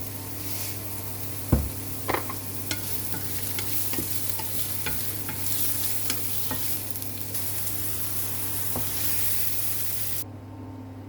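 Champignon mushrooms with salt fry in a pan in a steady, moderately loud sizzle, over a low hum, with a run of sharp spatula taps and scrapes, and no talking.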